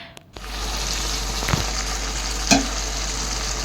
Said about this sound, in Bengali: চিকেনটা কষিয়ে নিচ্ছি